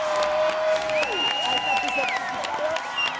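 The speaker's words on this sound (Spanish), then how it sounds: "Así que aplauso." A television audience applauds during an entertainment show segment, a steady crowd clapping layered under sweeping whistle-like tones and effects.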